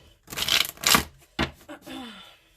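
Tarot cards riffle and snap together in a couple of quick bursts, followed by a soft slide and tap, close by and with no talking.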